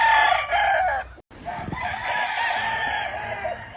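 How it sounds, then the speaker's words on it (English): A yellow hatch rooster on a game farm in Nauvoo, Alabama crows loudly and close, one long continuous call with clucking and farmyard background noise. "Yellow hatch rooster. Very nice rooster."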